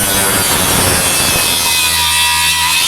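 A Milwaukee 6 1/2-inch circular saw rips loudly through framing lumber for under two seconds, then the blade keeps spinning alone with a steady motor whine as the cut ends.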